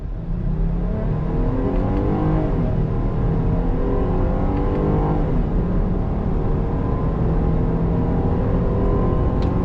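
A 2021 Jeep Grand Cherokee L V6 engine pulls steadily from low revs from a standstill, climbing in pitch through a couple of gear changes; the steady drone stays loud and continuous.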